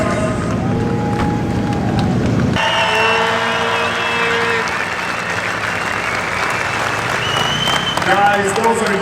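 A crowd of fans at a drift race in Ferropolis applauds and cheers continuously, the clapping mixed with roaring engines and loud tyre noise from the track.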